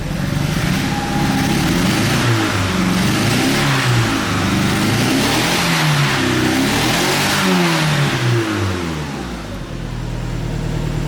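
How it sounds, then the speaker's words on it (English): A Talon's engine revs hard after a downpipe install, loud repeated rising and falling revs up close, easing toward idle near the end. "Rev it out"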